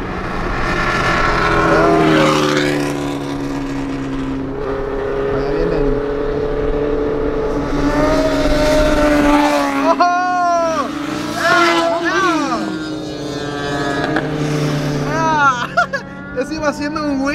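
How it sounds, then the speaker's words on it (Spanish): A group of motorcycles rides past on a Las Vegas street, engines revving and whining in rising and falling sweeps as the bikes pass close by, with people talking over the noise throughout. "Amigos, ahí viene un grupo de motos."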